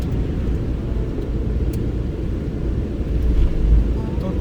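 A car exits the toll-free section of the Tottori Expressway on a snowy winter night, with a steady, loud engine and road rumble heard from inside the cabin.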